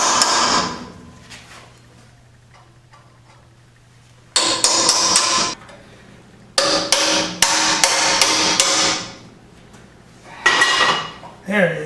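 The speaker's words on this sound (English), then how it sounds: "use my hammer and punch to drive the shell out" Hammer and punch drive a bushing shell out of a front control arm from a 1988-1998 Chevy OBS truck: clusters of sharp, ringing metallic blows struck in quick succession, separated by quiet pauses, close and loud.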